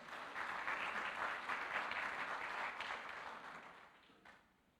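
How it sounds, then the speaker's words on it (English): A church congregation applauds the worship team, a dense sustained burst of clapping that holds steady and then fades out toward the end, with no speech over it. "Let's give each of them a big hand clap."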